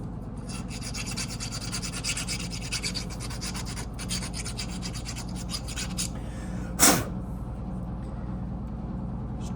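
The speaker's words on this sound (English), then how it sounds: "Just taking a chainsaw file." A chainsaw file rasps back and forth over a plastic water valve in quick, steady strokes over a constant low hum, with one sharp scrape partway through.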